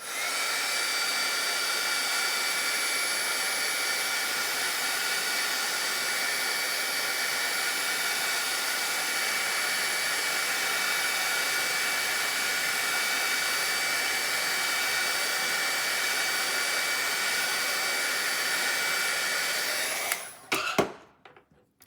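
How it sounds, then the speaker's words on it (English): A blow dryer runs steadily for about twenty seconds, drying a wet watercolor painting between glaze layers, a loud continuous whir with a faint high whine that cuts off abruptly near the end. "Now, to get to my next glaze, I need to dry this again."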